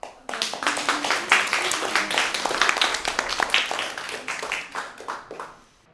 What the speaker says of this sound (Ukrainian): І оплески нашому талановитому Борисові Кисилю.